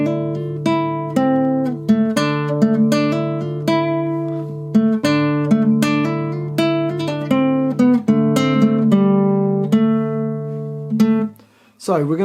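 Guitar playing the Hearthstone main theme melody: clear picked notes over sustained lower tones, a steady, moderately loud melodic line with ringing strings that fades out at the end, with no talking.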